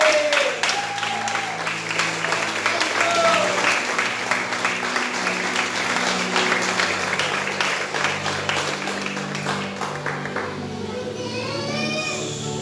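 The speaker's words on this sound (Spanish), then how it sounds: "Yo le hubiese dado un aplauso a eso." Congregation applause fills a church service at steady, moderate volume for about twelve seconds, with children's voices and a few whistle-like calls mixed in and a low musical hum underneath.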